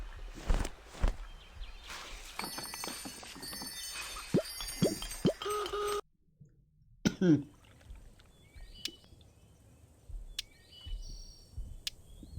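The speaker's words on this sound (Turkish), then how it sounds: "Öksürük var konuşamıyorum ya." A person coughs and clears their throat in a cluster of sharp bursts early on, then things fall quiet, with faint scattered knocks and handling noises afterward.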